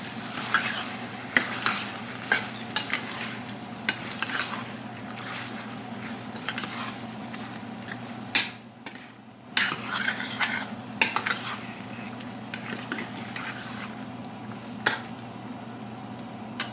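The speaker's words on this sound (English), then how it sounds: "right now I'm adding the shrimp and cook it for 5 to 7 minutes" Shrimp sizzling and being stirred in a hot pan for pandan coconut rice with sambal, a constant close frying hiss broken by repeated utensil scrapes and clinks against the pan, with a brief lull midway.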